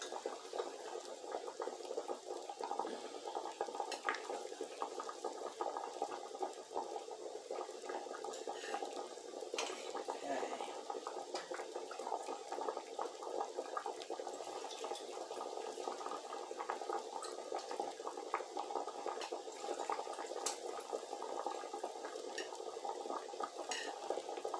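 Boiling-hot water poured steadily into a row of six or seven canning jars for green beans, a continuous close liquid rush and gurgle with no talk.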